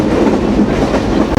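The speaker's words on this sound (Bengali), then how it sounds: "রূপসা এক্সপ্রেস ট্রেনের গতি দেখাচ্ছে 90 কিলোমিটার বা তারও বেশি" Rupsha Express train running fast on broad gauge track at around 90 km/h, a loud, steady rumble and rattle of wheels and carriages heard from inside.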